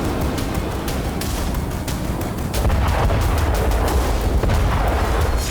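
Israeli bombing in Syria near the Al Joya and Al Arita mountain passes comes through as a loud, continuous rumbling roar, thick with crackling blasts and deep booms and growing heavier partway through.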